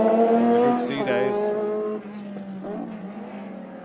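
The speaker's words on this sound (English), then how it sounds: "So David Kennedy now and Alex Dunn in the two Le Mans cars from the Group C days." Two Group C era Le Mans race cars running on a circuit at a historic racing festival, a loud high-revving engine note with shifting harmonics that drops away after a couple of seconds, leaving a fainter drone.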